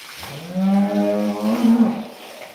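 A dairy cow gives one loud, close, drawn-out moo lasting about two seconds, rising and wavering before it fades, with no talk over it.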